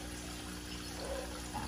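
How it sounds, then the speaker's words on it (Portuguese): Water flows in and slowly rises inside a ceramic filter for a koi pond, packed with gravel and charcoal layers. The flow makes a steady, low, continuous gurgling wash under a constant hum, with no speech. "Lembrando que as mangueiras estão lá embaixo e a água está subindo"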